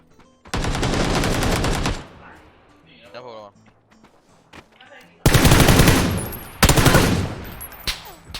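Gunfire in the battle royale game PUBG comes in two loud rapid automatic bursts, a long one early and more after a quieter gap that carries faint scattered sounds and a brief tonal effect, with players talking in between.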